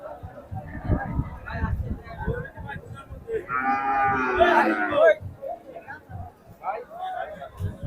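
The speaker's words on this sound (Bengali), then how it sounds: "ষাঁড় গরু।" A bull moos loudly and close, one long drawn-out low call rising over the background chatter and voices of a busy cattle market.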